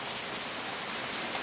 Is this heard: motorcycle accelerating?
no